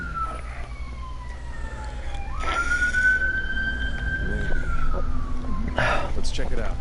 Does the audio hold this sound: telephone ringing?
no